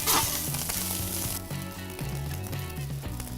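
Cooked rice fries in a couple tablespoons of olive oil on a griddle, giving a continuous close sizzle with rhythmic metallic scraping and tapping of a spatula.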